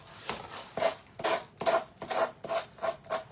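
Rhythmic rasping strokes of sanding on a surface, repeated back and forth about eight times at close range.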